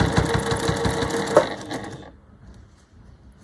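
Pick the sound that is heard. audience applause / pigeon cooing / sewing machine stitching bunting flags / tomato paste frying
sewing machine stitching bunting flags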